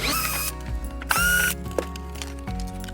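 A ratchet wrench loosens cover bolts on a Mitsubishi Delica L300 during alternator work, giving close, loud bursts of metallic clicking separated by brief pauses.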